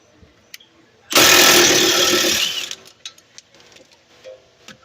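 A power tool zips off the ball joint nut on a 2017 Dodge Charger, one loud buzzing burst of about a second and a half, followed by quieter clicks and handling noises.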